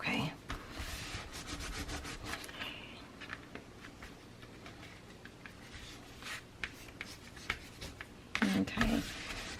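A transfer is rubbed onto a cover in scratchy back-and-forth strokes, some passes heavier than others, close up, with a short burst of voice near the end.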